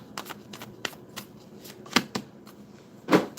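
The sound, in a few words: shuffling cards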